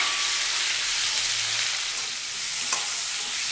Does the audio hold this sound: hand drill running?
no